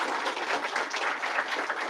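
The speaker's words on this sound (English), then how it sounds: "Let's give a round of applause for our elected officials." A crowd at a Watervliet school event with Gov. Hochul applauds elected officials: thick, continuous clapping from many hands, even and moderately loud for a couple of seconds.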